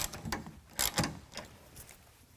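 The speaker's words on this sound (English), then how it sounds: "use a 1/2-inch wrench or ratchet and tighten down both of the front clamps" Ratchet or wrench tightening the front clamps of a TruXedo TruXport tonneau cover on a 2022 Nissan Frontier, a few quick close clicks and mechanical rattles in short uneven bursts.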